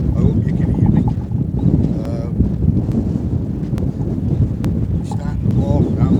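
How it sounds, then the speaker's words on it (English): Strong wind on a beach roars and buffets against the microphone, a loud continuous low rumble with gusty swells and occasional sharp clicks, while a voice talks partly buried beneath it. "It's very windy out here. I hope you can hear me through this wind."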